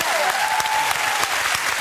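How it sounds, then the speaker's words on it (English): A TV chat show studio audience bursts into brief applause, a short loud flurry of clapping with a voice briefly audible at the start. "I got the quick clap."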